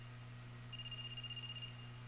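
A telephone rings in the AI: The Somnium Files video game, a warbling electronic burst lasting about a second over a steady low background hum.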